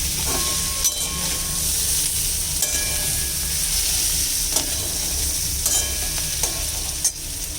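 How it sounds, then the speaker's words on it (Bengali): Dried Loitta fish curry sizzles and steams in a hot pan as hot water goes in, a steady close hiss broken by several sharp spatula scrapes and clinks against the pan, with no talking. "এবার একটু গরম জল দিয়ে দেব, আর বাকিটা সিদ্ধ হয়ে যাবে।"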